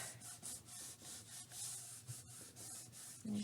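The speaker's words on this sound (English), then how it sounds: "So I'm just going to give that a good rub." Glued fabric rubbed down firmly by hand, a soft close brushing friction in rhythmic strokes, quiet and alone.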